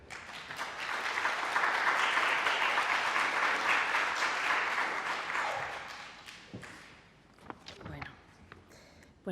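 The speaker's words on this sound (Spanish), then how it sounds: "les pido a ustedes pues, un aplauso de bienvenida y de agradecimiento" An audience welcomes a speaker at a lecture with dense, sustained applause for about five seconds, which then fades out and leaves a few scattered claps and room noises.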